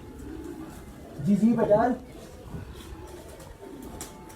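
Pigeons coo on a rooftop in Lahore: one short, low burbling call rises near the middle of the clip. A voice speaks over the quiet background.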